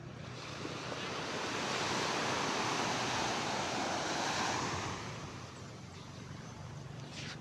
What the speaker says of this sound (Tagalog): Yan, ang lawak ng dagat.